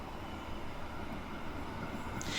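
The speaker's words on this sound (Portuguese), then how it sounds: "O trem chega à primeira estação." A train pulls into a station, a faint, steady rolling rumble of railcars with a soft high squeal rising near the end, distant and continuous with no voices.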